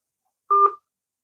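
A single DTMF telephone keypad tone sounds briefly while a call is placed to a number, a clean two-pitch beep lasting about a quarter second, close and alone against silence.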